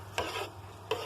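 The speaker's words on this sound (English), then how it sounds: "And I'm gonna mix it up now" A spoon stirring soaked rice in a pot of boiling water, two quick close scraping swishes over a faint bubbling simmer.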